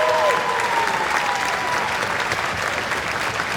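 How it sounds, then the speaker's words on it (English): An audience at a school junior spring concert claps in a dense, sustained wash of applause, loud and continuous throughout, with a few cheers or whistles mixed in near the start. "Give them a big round of applause."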